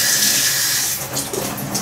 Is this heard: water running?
yes